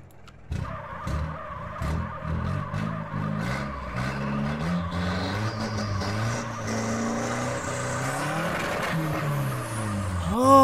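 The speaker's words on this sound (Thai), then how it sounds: "ผมชอบเสียงตอนเบิร์นยางมากเลยครับผมเสียงมันเหมือนจริงมากเลย" A van in GTA San Andreas screeches its tires in a long burnout, engine roaring and droning steadily, with a rising squeal toward the end.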